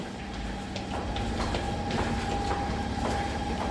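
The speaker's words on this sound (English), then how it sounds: "it's a very short little train. Only, I think, 3 cars" A short three-car Marunouchi Line subway train in Tokyo rumbles steadily nearby, with rhythmic clickety-clack wheel beats and a faint high whine over continuous loud rail noise.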